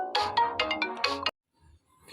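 A mobile phone ringtone plays a bright, musical melody in several rising and falling bursts, fairly close and clear, then stops abruptly, leaving near silence with faint background rumble.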